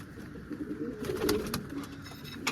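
Soft, low pigeon coos repeat close by, with faint light tapping and rustling in between as the pigeons peck at grain.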